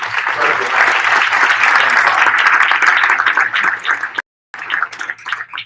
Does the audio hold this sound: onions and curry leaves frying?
no